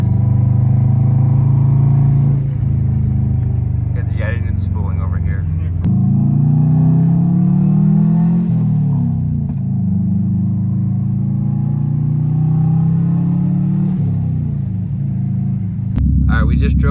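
A Pulsar GT3076R turbo on a car with custom intercooler pipes spools up with rising and falling whistles over a loud, steady engine rumble, heard close by throughout.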